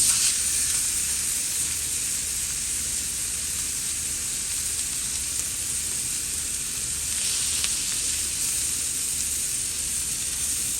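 Ribeye steaks sizzle steadily on a Primo Kamado grill, a continuous bright, close hiss of searing fat and juices with no talk, holding level throughout with faint crackles.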